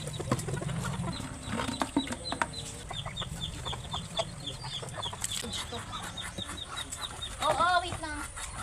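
Laying hens on a rural Filipino farm clucking in short repeated bursts, with a rooster-like call near the end, under faint background talk.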